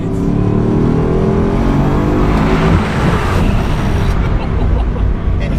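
A Bugatti Chiron's W16 engine pulls hard in first gear, a loud, dense roar whose pitch climbs steadily for several seconds before settling into a sustained high-revving drone.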